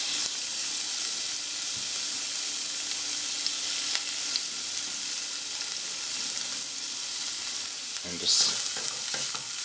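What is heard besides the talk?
chopped Brussels sprouts sautéing in olive oil, stirred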